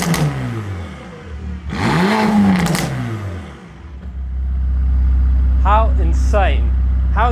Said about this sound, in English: A massive change to the exhaust note.